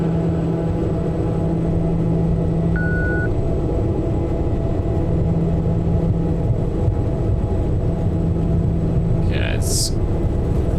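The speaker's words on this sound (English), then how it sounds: "Engines are stable. We're at 2000 RPM." Steady droning aircraft engines holding at 2000 RPM during takeoff in Microsoft Flight Simulator 2024 at night, a continuous loud rumble with a brief electronic beep and a short chirp near the end.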